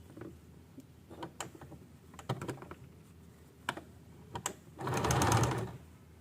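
A sewing machine stitches piping onto a blouse jacket. Scattered clicks and handling noises come first, then one short, loud whirring run of stitching near the end.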